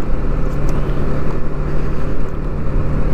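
A Bajaj motorcycle, freshly serviced with new oil filter and engine oil, runs with a loud, close, steady engine drone and rumble, with no voices present.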